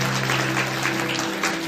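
An audience at a career counselling program claps for itself, a brief even burst of applause over a steady electrical hum.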